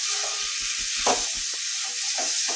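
Rohu fish head curry with potatoes sautéing in a pan, with a soft steady sizzle and a series of rhythmic stirring scrapes, close and fairly quiet.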